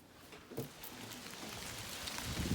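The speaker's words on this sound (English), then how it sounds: "This is a hailstorm in December." Hail from a December storm clattering down outdoors, a steady dense patter of small impacts with scattered louder hits, building slightly toward the end.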